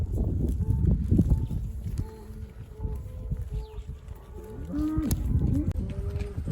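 Cattle moo nearby during a summer cattle drive in Utah, several low drawn-out calls overlapping one another, with faint rustling and movement underneath.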